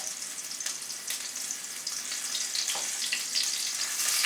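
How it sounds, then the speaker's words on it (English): Meatballs frying in a pan give a steady, close sizzle with bright crackling spatters throughout, and no voices. "Just want to drop them in one at a time. You'll hear them sizzle."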